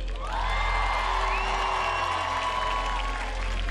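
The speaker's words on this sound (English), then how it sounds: "give the biggest round of applause to Harry." Festival crowd at Pinkpop 2024 cheering and applauding steadily, with whoops and sustained shouting over a continuous crowd roar; loud and fairly even throughout.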